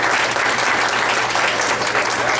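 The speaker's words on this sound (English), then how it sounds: "let's give her a big round of applause for that." Dense, steady audience applause fills a hall at a college TRiO Day celebration, loud and continuous with no pauses throughout.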